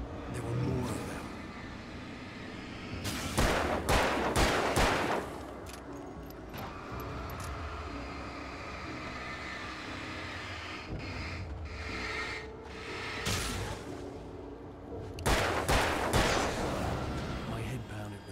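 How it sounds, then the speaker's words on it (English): Gunfire in the video game Alan Wake, several separate loud volleys of rapid shots spaced seconds apart over a quiet, rumbling background, with no talk. "I'd never fired a gun outside a shooting range, and now I just killed someone, or something."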